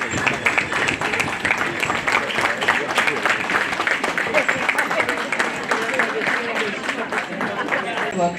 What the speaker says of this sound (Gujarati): ડેફિનેટલી આપણે સ્ટેન્ડિંગ ઓવેશન થવું જ જોઈએ. સો જોરદાર તાળીઓ થઈ જાય